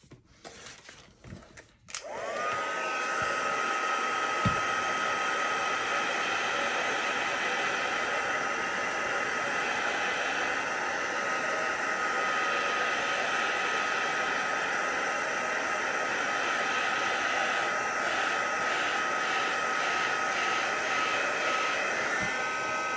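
A handheld heat tool blowing on the back of a craft card starts abruptly after a brief rustle and then roars steadily, loud and close, with a constant whine running through it for the rest of the time.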